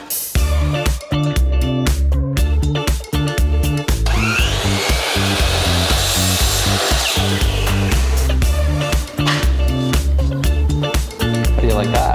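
A power saw cuts wooden trim pieces for a custom dog house built for a campervan, giving a loud, sustained whine with rapid broadband bursts across the whole stretch, under occasional voices.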